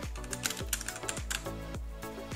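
Typing on an EK387 mechanical keyboard fitted with Huano switches, a steady run of close, crisp keystroke clicks with a few louder accented presses over a low background hum.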